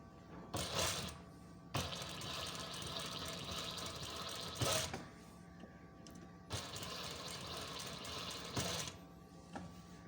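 Sewing machine stitching around a round neckline of a garment, several steady whirring bursts with short pauses between as the presser foot is lifted and lowered, close and moderately loud.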